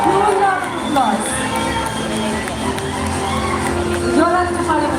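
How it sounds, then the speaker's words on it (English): A crowd cheers and whoops with applause at a company Founders Day event, lively and close, with people talking and shouting over it. "Let's give them all a huge round of applause."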